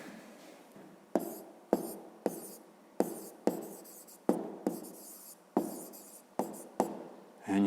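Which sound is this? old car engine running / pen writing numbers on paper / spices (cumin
pen writing numbers on paper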